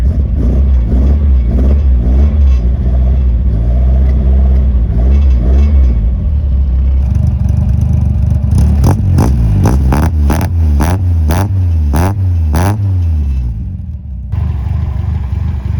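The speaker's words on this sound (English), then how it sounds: "that was a cold start right there" A 1971 Toyota Celica engine without a choke idles loud and close after a cold start, a lumpy rumbling idle, then a burst of quick rhythmic revs before it settles back down, with no talking.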